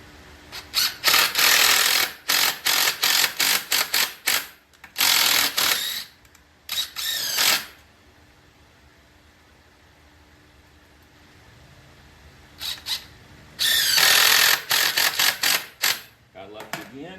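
A power drill drives screws into a treated-wood outdoor porch chair in loud, close bursts of whirring, several separate runs split by pauses and a long quiet gap.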